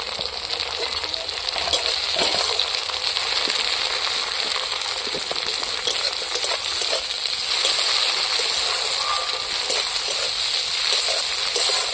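Chopped tomatoes frying in spiced oil in a pan, a steady loud sizzle with crackling pops and occasional clinks of a utensil throughout.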